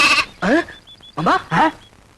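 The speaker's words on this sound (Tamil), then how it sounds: "ஆட்டுக்கு பேர் ராமு" A goat bleats several times in quick succession, loud and close, the wavering cries separated by short pauses.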